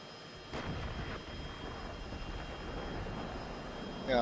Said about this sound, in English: We have helicopters coming in from the north.